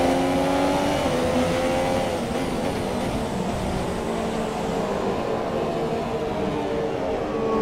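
A Formula 1 car engine in the F1 2017 video game roars steadily at close range, its tone sagging and wavering partway through as the engine fails and loses power, with no voices.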